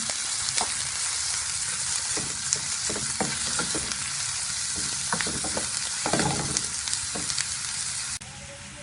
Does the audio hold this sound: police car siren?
no